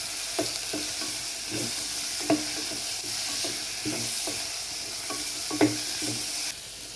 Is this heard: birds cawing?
no